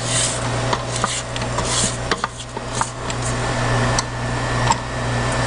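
A spatula scrapes around the sides of a baking mixing bowl in a series of close, soft rubbing strokes, with a steady low hum running underneath.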